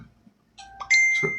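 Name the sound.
doorbell ringing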